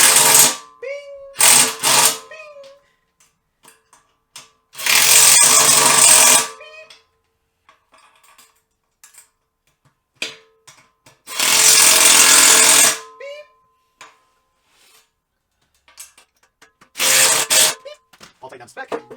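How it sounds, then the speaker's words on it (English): Power tool tightening fasteners on a newly bought motorcycle dolly to spec, in three loud sustained bursts of a few seconds each, separated by quieter clicks and handling noises. "So tighten them down to spec just like this."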